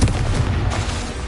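A Confringo blasting spell detonates in Hogwarts Legacy, a loud, booming explosion with a heavy low rumble that carries through the whole moment without any voices.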